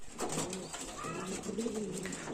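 Pigeons coo softly in low, rolling calls, close by against a faint background hum.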